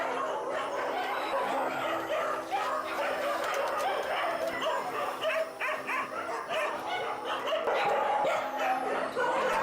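More than 500 shelter dogs bark, yip and howl together before feeding, a continuous, dense, excited clamor that stays loud throughout.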